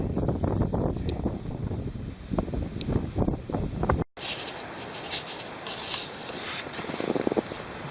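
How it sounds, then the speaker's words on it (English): Wind gusts across a snow camp in Panthertown, with tent fabric flapping and rustling; buffeting wind noise hits the microphone in the second half. "So just a little bit of wind getting in there. See how the yellow side is flapping?"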